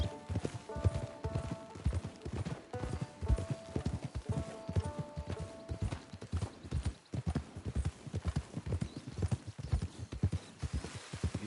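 Horse hooves clip-clop close by in a steady walking rhythm, each hoof strike crisp and distinct. The beat continues throughout with brief uneven gaps, over faint sustained tones in the background.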